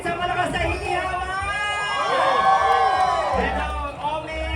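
A large crowd roars and cheers at the Araw ng Pasig grand civic parade in Pasig, Philippines, a dense sustained wall of shouting and whooping with an amplified voice cutting through on top.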